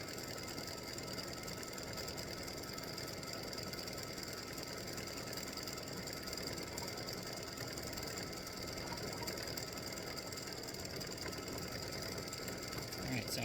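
A computerized embroidery machine stitches out freestanding lace Halloween spider earrings with a fast, steady mechanical clatter and ratcheting rhythm that continues evenly and close throughout.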